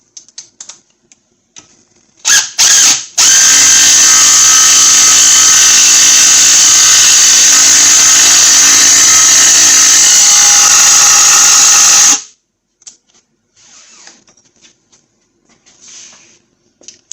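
A bolt on a workbench is torqued until it breaks using a 10mm socket and ratchet, producing a loud, continuous grinding ratchet racket of about nine seconds after a few sharp clicks, then near silence.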